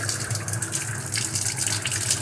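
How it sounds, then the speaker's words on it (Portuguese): Water from an opened tap rushes in a steady, loud, close hiss that runs without a break and has no voices over it. "Abre a torneira"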